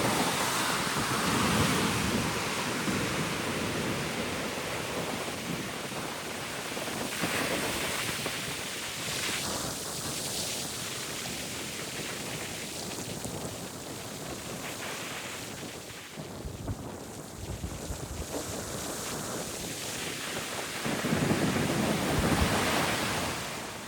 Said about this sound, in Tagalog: Sobrang alon.